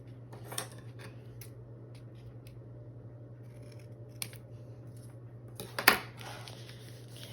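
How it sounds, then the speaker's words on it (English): Scissors trim coffee-dyed paper for journal ephemera tags, giving a few faint, scattered snips over a steady low hum, with one sharper, louder cut near the end. "I'm gonna trim the coffee dyed paper on the side here just a bit more"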